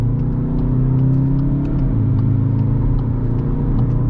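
A 2022 Skoda Octavia vRS engine drones loudly and steadily, its low hum building slightly as the car gathers speed on an open road, with no talking.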